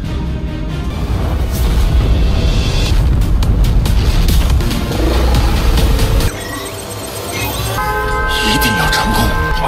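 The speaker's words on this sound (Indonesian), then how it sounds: "Ledakan yang kuat memang terjadi" An atomic bomb detonates in an animated battle against the monster Golden Hornet: a loud, dense, rumbling roar sustained for about six seconds, then a quieter tail with ringing tones and debris-like crackle.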